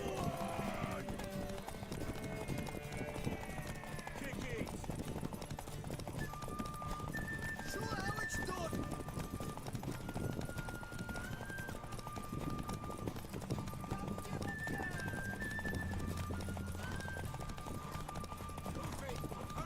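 A horse gallops in a race in The Witcher 3, steady clip-clop hoofbeats drumming throughout under game music and a whinny, with people talking over the action.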